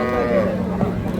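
A dairy cow at a village cattle market gives a short, loud, close moo with a low droning tone, heard amid the surrounding market noise.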